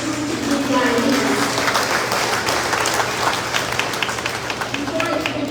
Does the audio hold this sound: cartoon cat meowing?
no